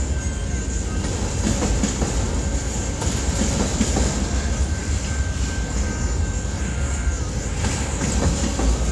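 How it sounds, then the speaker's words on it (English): A long freight train rolls steadily past at close range, its wheels and cars producing a continuous loud rumble with faint clickety-clack and a thin high squeal running throughout, no voices. "This train's long."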